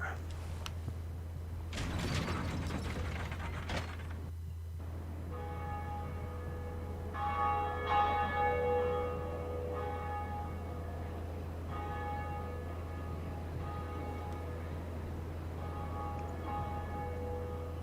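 Church bell ringing in the Dark Souls video game, a few tolling strikes with metallic overtones that ring out and decay, set over a steady low game hum, with a mechanical clatter early on.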